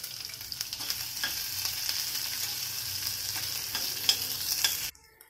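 Chopped big onion with green and dried red chillies sautés in a pan for barnyard millet kichadi, a steady close sizzle broken by regular scraping stirs, stopping abruptly near the end.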